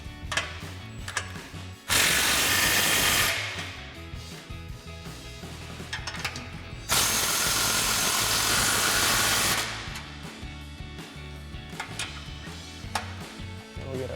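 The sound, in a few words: socket ratchet tightening exhaust clamps on F-150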